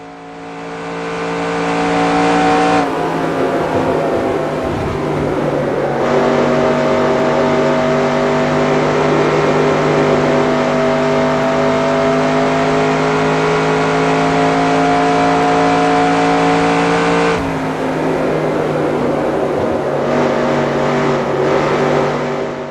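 A race car laps the Charlotte track in NASCAR Racing 2002, a loud, sustained engine howl holding steady pitch with shifts in tone through the corners, continuous and close with no voices.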